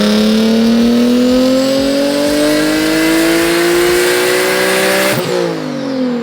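A Nissan 370Z on a dyno revs hard for about five seconds, its loud engine note climbing steadily, then drops sharply as the throttle lifts, with no talking over it.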